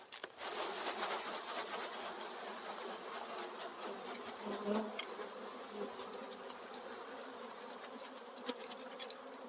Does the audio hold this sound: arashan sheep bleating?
no